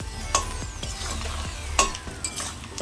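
Spice paste for a bhetki fish head curry frying in a pan and being stirred, a steady close sizzle broken by a few sharp scraping strokes of the spoon against the pan.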